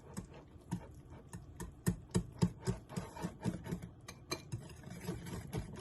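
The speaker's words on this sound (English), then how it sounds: "I'm just gonna mix this up with a whisk." A vinegar and honey dressing gets whisked in a bowl, giving quick, irregular metallic clicks and scraping taps in a steady rhythm, quiet and close.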